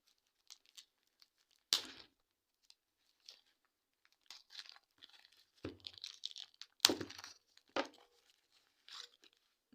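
Packing paper from a parcel crinkles and crunches close by in scattered, uneven bursts, a few sharper rustles between quiet gaps, with no talking.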